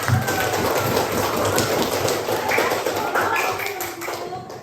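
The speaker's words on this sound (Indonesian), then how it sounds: "Tepuk tangan untuk Atila" A classroom of pupils applauds during a primary maths lesson, a steady wash of clapping that lasts the whole moment, close and fairly loud, with faint voices mixed in.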